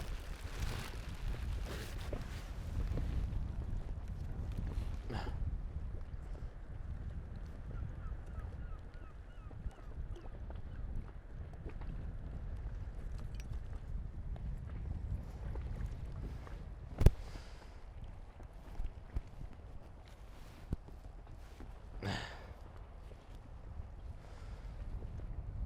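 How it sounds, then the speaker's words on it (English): A moving inflatable dinghy rides out on open water in gusty wind, with low rumbling buffeting, soft sloshing and creaks, and one sharp knock partway through. "you're in a moving dinghy"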